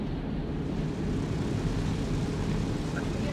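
A loud airplane engine in a video game drones as a dense, steady roar that fills the whole stretch without breaks or changes.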